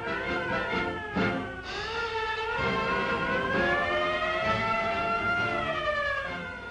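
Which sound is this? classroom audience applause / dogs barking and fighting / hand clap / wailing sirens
wailing sirens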